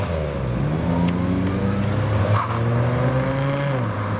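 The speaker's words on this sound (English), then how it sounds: "An MG Midget's driving by" A classic MG Midget drives past on its way out of a car meet, its engine note rising and falling steadily as it passes close by, with other car engines rumbling in the background.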